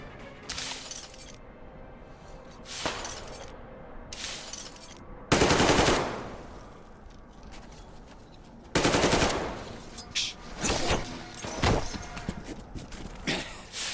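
Loud bursts of automatic gunfire in the video game Metro Exodus, several separate volleys with sharp shattering crashes between them, close and harsh against a busy background.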